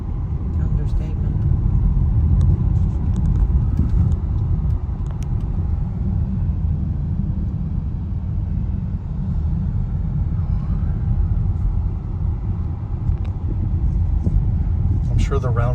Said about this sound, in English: Going over a bumpy road.